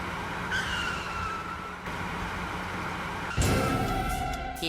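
A car on the road skids and squeals its tires while overtaking, a sustained loud screech that cuts off abruptly, followed by a sharp burst of louder noise, with no talk.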